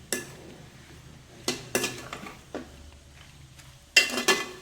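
A metal spoon stirs raw plantain in a cooking pan, giving scattered clinks and scrapes against the pan. The sounds are fairly quiet and irregular, with a brighter double clatter near the end.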